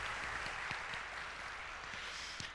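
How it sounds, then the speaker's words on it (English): Church congregation applauding during a service, a faint, steady patter of many hands clapping that runs throughout without a break. "give her a round of applause"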